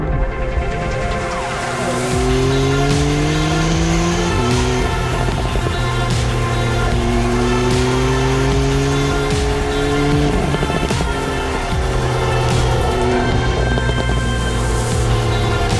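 A Porsche 911 Carrera T with 370 hp accelerates hard in sport mode with traction control off. The loud engine note rises through the gears, with audible shifts and dips, inside the cabin.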